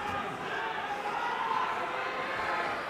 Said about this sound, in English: great reaction from the crowd, really have put Scott Dann to their hearts